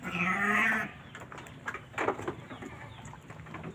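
Sheep and Jawa Randu and Etawa goats in a farm pen: one loud, close bleat opens the clip, followed by quieter scattered animal calls and shuffling.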